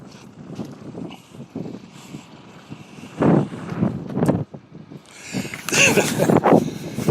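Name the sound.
wind blowing outdoors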